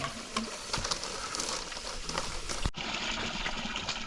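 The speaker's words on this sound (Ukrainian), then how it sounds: "Запускається насос." Water gushes and trickles steadily from a newly drilled borehole as its pump starts up, a continuous splashing flow with a brief click partway through.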